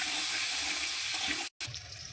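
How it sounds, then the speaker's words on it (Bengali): Eggplant pieces frying in hot oil: a steady, bright sizzling hiss that cuts out abruptly for a moment, then resumes slightly softer. "তেলের মধ্যে বেগুনগুলো নাড়াচাড়া করে নেব।"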